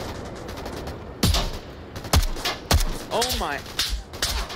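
Gunfire in a multiplayer shooter video game, several sharp bursts and single shots spaced across the stretch, loud and close, with a voice speaking briefly between shots.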